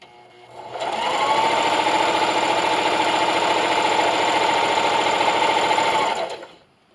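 A sewing machine stitches fabric strips together for a scrappy patch bathmat, running in one steady, fast continuous burst of about five seconds, close and loud, with no talking.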